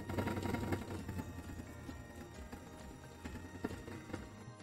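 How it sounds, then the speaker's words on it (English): A sewing machine running a straight stitch through fabric while making a gnome hat, a steady fast mechanical chatter at low level with no talk. "we are going to straight stitch the long side of the triangle to close it up"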